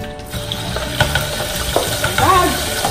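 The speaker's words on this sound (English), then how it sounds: "we're gonna fry now. I put already some oil there" Oil sizzles and fries steadily in a pan, close and loud, with stirring clatter and scraping as pork belly is cooked for lechon kawali.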